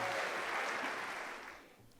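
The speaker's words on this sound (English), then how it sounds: "please give a big round of applause to C31 chair Mike" Audience at an anniversary gala applauding, a dense wash of clapping that holds steady and then fades away.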